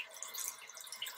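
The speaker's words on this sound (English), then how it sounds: "Just rinse this out really quick." Water running and dripping at a bathroom sink as a shaving razor is rinsed, a soft, faint, steady trickle with light splashes and no talk.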